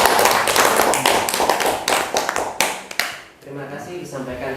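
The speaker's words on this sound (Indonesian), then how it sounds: "Ya, kita beri aplaus." An audience at a positive-culture dissemination event at SMA Al Hikmah Boarding School Batu claps in a dense burst of applause that dies away after about three seconds, with a voice speaking near the end.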